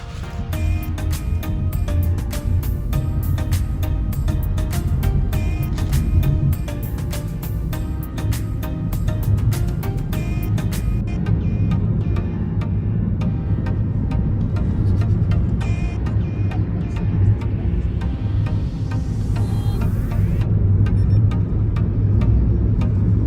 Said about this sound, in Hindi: बाहर निकल के हम लोग टेस्ट करेंगे कि गाड़ी एक्चुअल में कितना टाइम लेती है 0 से 60 तक कवर करने में।